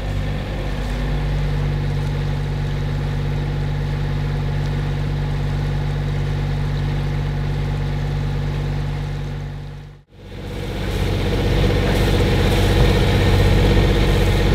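Steady, droning hum of a sailboat's engine while motoring, continuous and fairly loud, briefly dipping near-silent before the drone resumes.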